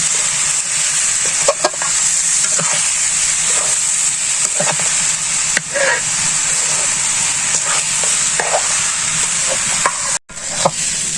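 Rice and chicken being stirred and fried in a pan for khichuri, a loud continuous sizzle with repeated scraping strokes of the spoon, and a voice speaking over it at times.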